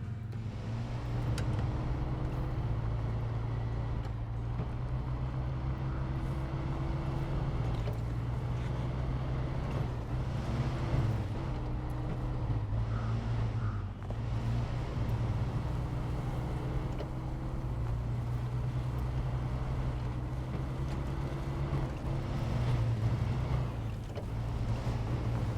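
Truck with a 5.2 litre engine driving in SnowRunner, a loud, continuous low engine drone with shifting pitch that rises and falls across the whole stretch, no talking.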